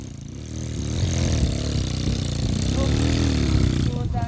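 Enduro trail motorcycle engine revving hard on a steep uphill off-road climb, a loud, close, sustained buzzing drone with a strong harmonic whine that rises and falls in pitch, with people shouting in the background.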